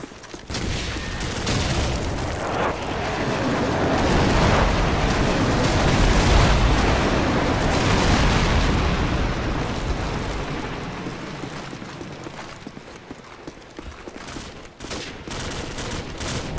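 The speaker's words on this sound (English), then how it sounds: "Friendly airstrike on the way." Rapid loud airstrike explosions roll in continuous thunderous bursts across a Call of Duty 4: Modern Warfare multiplayer battlefield, swelling to a dense peak and then thinning into scattered crackling blasts.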